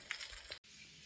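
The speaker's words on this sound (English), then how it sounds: "So you can probably hear the steak sizzling in the background." A steak frying in a pan, cooking toward medium well, gives a steady broadband sizzle with a few brief crackling pops, cut by a short gap of silence before the hiss resumes at a lower level.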